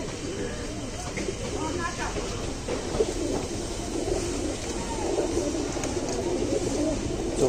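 Soft coos from Allahabadi pigeons in a loft repeat under steady background noise and nearby human talk, with a faint low rumble throughout.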